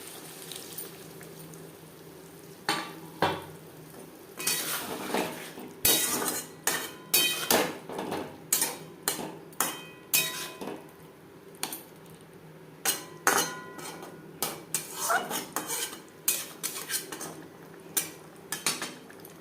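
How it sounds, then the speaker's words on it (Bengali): A metal spoon scrapes and knocks repeatedly against a pan as elephant foot yam and potato cook with spices for a silver carp curry, in a steady rhythm of close, clattering strokes over a soft background simmer. "মশলার সাথে ওলো আলু 4-5 মিনিট রান্না করব।"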